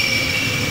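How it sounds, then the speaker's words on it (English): Subway train in the 1999 PC video game The Longest Journey, a steady loud rumble with a bright high metallic whine held throughout the short moment. "Alright, how about we get on the frickin' train?"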